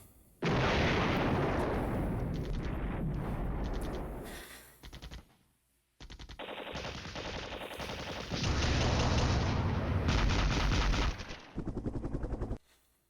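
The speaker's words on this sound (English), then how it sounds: "Oh, there's some good mortar action." Mortar and artillery fire in a NATO war strategy video game, with dense, loud continuous bursts of automatic gunfire and booming shots rolling on for most of the stretch, a brief gap midway, then heavier volleys resuming.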